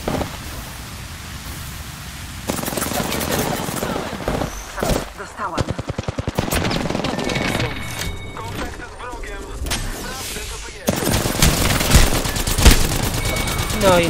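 Rapid bursts of automatic gunfire in the Apex Legends battle royale game, mixed with explosions and game effects, fairly loud and continuous with a dense sustained stretch toward the end.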